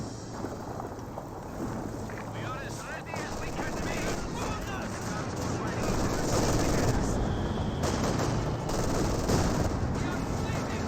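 Coaxial machine gun fire from a T-54-85 tank in Company of Heroes 2 rattles on as steady dense bursts inside a busy battle mix of explosions and rumble, with a commentator talking over it.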